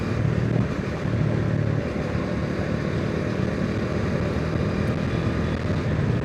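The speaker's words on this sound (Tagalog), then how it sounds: "Pakinggan nyo yung truck ha, kung maririnig nyo." A truck hums with a low, steady drone heard from a moving motorcycle, mixed with engine and wind noise, constant and fairly loud throughout.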